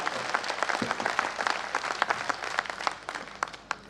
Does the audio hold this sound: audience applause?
yes